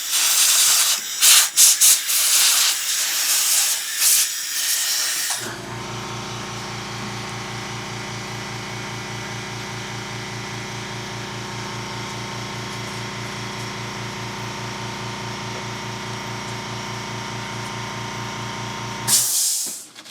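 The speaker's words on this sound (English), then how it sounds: "I like to blow all that excess deoxit out of there with some compressed air" Compressed air blasting excess DeoxIT contact cleaner out of the pots on a Yamaha R1000 digital reverb unit, a loud steady hiss held for about fourteen seconds after some brief handling clatter.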